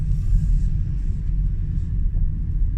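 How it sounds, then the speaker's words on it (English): Steady low road rumble and tyre noise inside a Hyundai Kona Electric driven briskly, a continuous close drone with no talk. "Driving quite spirited."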